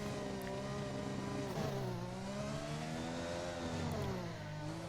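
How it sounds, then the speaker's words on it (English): McLaren Formula 1 car in a racing video game pulling out of the pits at the Chinese Grand Prix, a steady, droning engine note rising and falling slightly, continuous and fairly loud. "There is a McLaren now leaving the pits as well."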